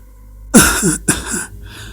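An old man coughs and clears his throat in two rough, harsh bursts, close by with a brief pause between them.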